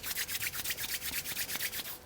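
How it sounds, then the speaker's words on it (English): Palms rubbed together gently during a calming breathing exercise, making a soft, steady swishing with about a dozen rhythmic strokes, close and quiet with no talk. "Very gently rub the palms together."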